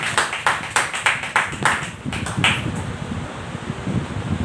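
A church congregation clapping loudly at a sermon, with rhythmic bursts of handclaps for about two seconds that then fade into a diffuse roomy hum.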